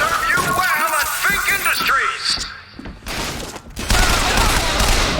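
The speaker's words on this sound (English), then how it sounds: "I do just shoot him until he's dead." Gunfire from a Bronco-style weapon in the shooter game Bioshock Infinite, with a burst of shots and thuds over busy game sound and a voice, then louder rattling fire near the end.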